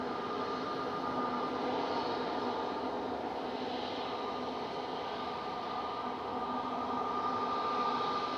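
A NetJet Cessna Citation business jet on approach to Manchester Airport gives a steady, broad roaring whine at moderate distance, holding constant throughout with no talk over it.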